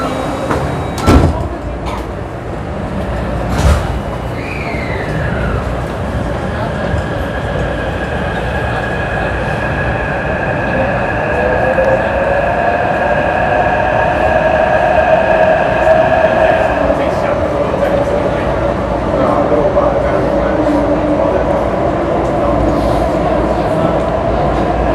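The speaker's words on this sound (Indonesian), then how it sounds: "Kita naik di pucuknya MRT." A metro train ride on an MRT line, with a steady rolling rumble and a rising then falling whine of the traction motors as the train moves off. Door and cabin noises sound briefly early on, and faint voices sit under the ride.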